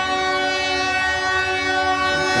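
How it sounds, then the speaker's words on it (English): A train on the Russian children's railway sounds its horn in a long, steady blast of layered harmonic tones over a low rumbling engine, loud and close throughout. "this is the very last train of the season"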